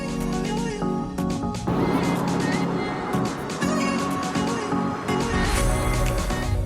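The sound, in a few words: Tesla car driving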